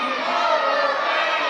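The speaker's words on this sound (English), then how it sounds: "This crowd saying overrated." A wrestling crowd at a live indoor show chanting in unison, a dense, loud wall of many voices sustained throughout the short stretch.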